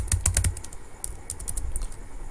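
Rapid keystrokes on a computer keyboard while Excel macro code is written, an early burst of loud, close clicks followed by lighter, irregular tapping, with no voices.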